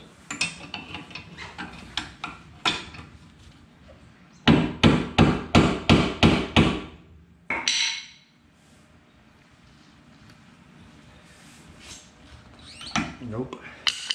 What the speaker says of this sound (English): Got the hammer.